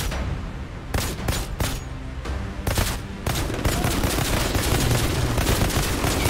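Rapid bursts of automatic gunfire in the sci-fi shooter Outriders, dense volleys of loud shots separated by brief gaps, running continuously over a busy battle backdrop.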